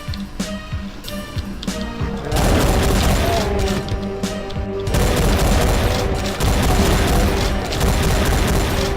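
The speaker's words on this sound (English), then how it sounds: "Yeah, that shoots them much faster than the regular chain gun does." Rapid chain gun fire in GZDoom with the Final Doomer mod, a dense, loud burst of fast repeated shots over game music, pausing briefly before resuming in sustained volleys.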